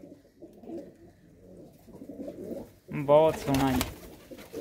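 Pigeons coo in a low, repeated murmur at a rooftop loft of racing pigeons, close by; someone talks over the later part, briefly drowning the birds.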